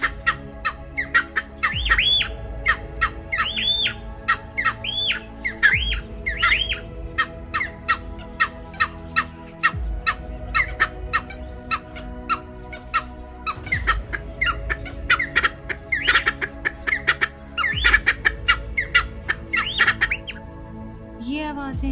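Cheer pheasants calling over a long stretch, repeated loud harsh squawking and rising, crowing phrases in rhythmic bursts, several birds overlapping, with a steady low background hum.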